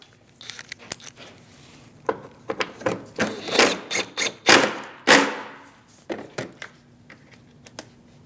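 Clicks and rattles of a ratchet tightening 10mm bolts on a radiator in a 2016-2025 Chevrolet Malibu 1.5L, irregular bursts of short metallic taps, close and fairly loud, with no talking.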